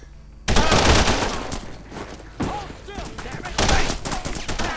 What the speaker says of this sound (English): Dual-wielding assault rifles, really fun, but you can't hit shit.